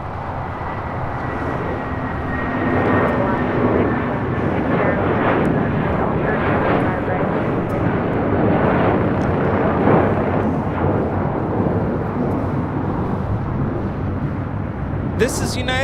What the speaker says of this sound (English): This is United Airlines 1069 taking off to Chicago O'Hare on the 757-300